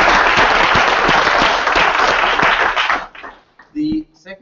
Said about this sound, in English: let's give a round of applause to the speakers who are still there